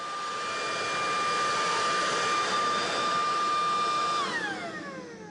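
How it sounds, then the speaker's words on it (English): A blower roars steadily to clear dust off gravelly ground, a loud, even whine with a tonal hum that drops in pitch as the motor winds down near the end. "if you blow dust away, it goes away, like I just did here."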